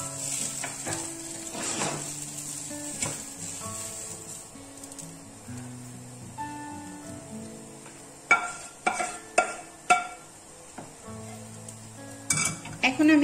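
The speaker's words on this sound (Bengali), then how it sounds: "যেহেতু সেই চিংড়ি মাছের শুটকিটা আমি ভেজে নিচ্ছি" Dried shrimp fry in a pan with a soft steady sizzle, while a spatula stirs and scrapes and utensils clink sharply against the metal in several quick bursts, moderately close.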